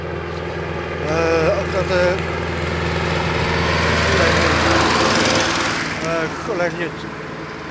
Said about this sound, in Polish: głośny ten traktor, zapewnie niesprawny jest, po prostu przeszkadza w nagrywaniu.